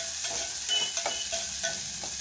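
Onions frying in a pan of hot tempering oil while being stirred, a soft steady sizzle with light scraping strokes at a close, quiet level.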